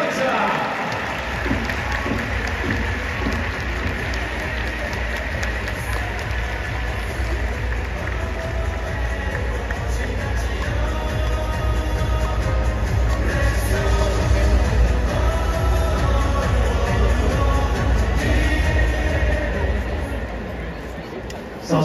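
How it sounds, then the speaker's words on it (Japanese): Sustained applause from a stadium crowd greeting a former Yokohama DeNA BayStars player at a ballpark exhibition at-bat, a steady dense roar of clapping lasting over twenty seconds with an announcer's voice over it. "大きな拍手でお迎えください"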